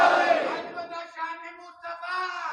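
A crowd at a religious speech in Gujranwala shouts a loud slogan reply in unison, a strong massed cry that fades into a sustained chanted tone with brief gaps.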